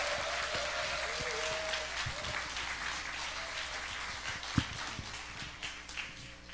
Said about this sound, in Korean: 큰 박수와 함성으로 환영하겠습니다